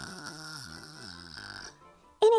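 A voice imitates a bear snoring, giving a few slow, rumbling drawn-out snore breaths followed by a short sharp vocal snort at the end.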